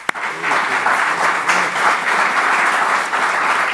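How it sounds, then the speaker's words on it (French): Audience at a 2025 federal election debate breaks into sustained, dense applause, loud and close, filling the room evenly after one sharp initial clap. "qu'on peut les applaudir à ce moment-ci"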